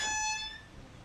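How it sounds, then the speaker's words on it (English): Blade brake engaging on a Gianni Ferrari catching mower just after shutdown, giving a brief, clear ringing whine that fades out within about half a second. "That noise you hear, that's the blade brake."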